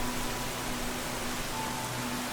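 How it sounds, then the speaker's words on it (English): Steady rain falls across a quiet garden plaza in the Roblox mascot horror game Puffy's Resort, a constant even hiss with a faint low tonal hum underneath and no talking. "The rainy atmosphere is really nice."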